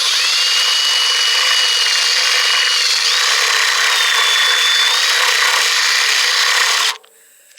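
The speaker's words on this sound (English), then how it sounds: "you got to hit it with the drill again" An electric drill enlarges a hole in a plastic gas can, a steady grinding, rasping whine close up that runs continuously for about seven seconds and then stops abruptly, with no talking.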